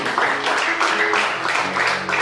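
Congregation in a church service applauding together, a steady wash of many hands clapping at moderate distance, continuous for a couple of seconds with murmured voices underneath.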